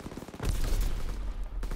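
Bursts of rapid gunfire from the World War II shooter Call of Duty: WWII, dense and loud, with heavy low-end booms rolling through the short burst.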